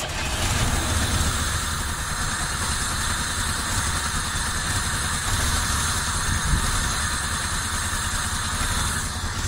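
A 1990 Chevrolet Camaro RS engine runs after its first start in 13 years, idling with a loud, steady, close rumble and a constant mechanical drone throughout, with no talking.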